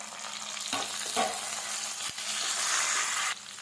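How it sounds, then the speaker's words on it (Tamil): Chopped onions sauté in hot oil with a steady, soft sizzle. A few clinks of stirring break in partway through, and the sizzle stays alone without talk. "நறுக்கின வெங்காயம் வெங்காயம் நல்லா வதங்கட்டும் எண்ணெயில் வந்து நல்லா வதங்க விடலாம்"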